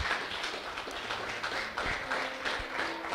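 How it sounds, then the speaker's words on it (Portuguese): Congregation clapping in a church service, a steady wash of moderate applause throughout with a few louder claps standing out. "Você pode aplaudir ao Senhor nessa noite?"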